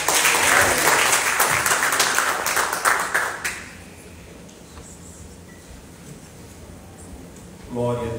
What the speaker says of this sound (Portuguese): Aplauda ao Senhor, igreja